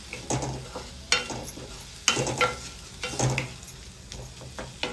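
Tomatoes sizzle as they fry down into a paste, with repeated stirring scrapes of a spoon against the pan at a steady rhythm.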